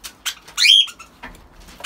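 Birds squabble over food, with quick close chirps, a sharp squawking burst and faint scuffling and fluttering between calls.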